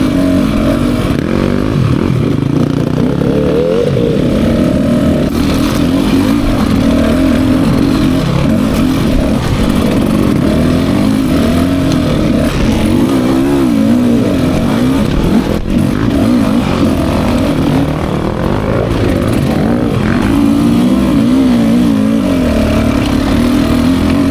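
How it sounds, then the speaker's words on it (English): A 2024 Beta 300 RR Race Edition dirt bike lugging up a hill at low RPM without clutch, a steady, loud, throbbing engine drone close to the rider throughout. "Was just all the way down in RPMs, no clutch, just let the bike pull."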